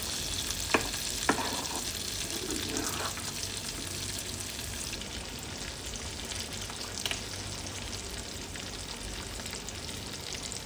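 Prawn gravy simmers and bubbles in a pan with a continuous dense sizzle, a couple of faint utensil taps early on as curry leaves and coriander go in, heard close and without speech.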